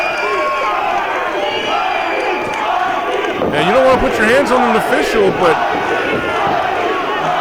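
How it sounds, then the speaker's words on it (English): Crowd at an indoor professional wrestling show, loud cheering and rhythmic chanting that swells midway, with a commentator talking over the noise throughout. "the crowd chanting Mikey."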